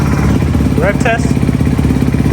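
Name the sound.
motorcycle engine revving in a rev test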